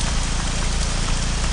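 Steady, heavy rain pours down without pause in the survival game Arma 3 Exile, set in a city, a dense hiss close and continuous with a low rumbling undertone.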